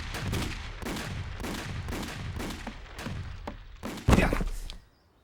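Cartoon gunfire crackles in a rapid, steady volley of close shots right after an order to fire, ending in one heavier blast before the clip falls quiet.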